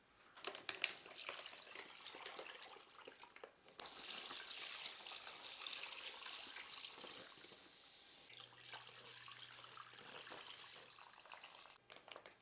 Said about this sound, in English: just keep pouring in water until it covers the bird all the way to the top